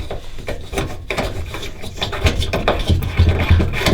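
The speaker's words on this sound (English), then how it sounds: "once you got the new bulb, then that just screws in." A new bulb is screwed into an oven light socket, making close, irregular scratchy rubbing and gritty twisting scrapes with small knocks, and no talking.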